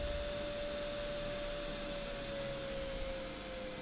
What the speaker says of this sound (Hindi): अब ये इसकी फुल स्पीड है। आप देखें बहुत तेज़ पंखा चल रहा है 12 वोल्ट पे